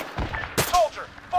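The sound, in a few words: gunfire in Arma 3 video game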